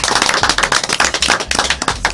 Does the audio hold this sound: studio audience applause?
yes